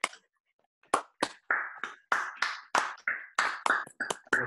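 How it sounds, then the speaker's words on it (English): Scattered claps from several unmuted online meeting participants, each clap sharp and separate, arriving irregularly rather than as a steady roll. "Can we all unmute ourselves and give Ayo a clap just there, please?"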